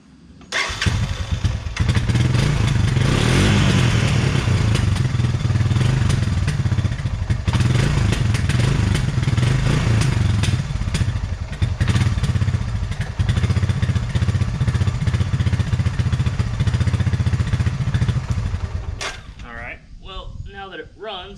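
A Honda TRX 300FW ATV engine runs steadily and loudly for most of the clip with a rough, clattering idle, close to the listener, then cuts off near the end; a person talks over it.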